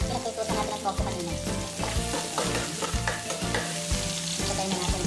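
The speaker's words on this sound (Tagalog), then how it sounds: "So, igisa muna natin ang bawang." Garlic sautés in coconut oil in a pan, a steady bright sizzle and crackle with repeated scraping strokes of stirring throughout, fairly close and without talk.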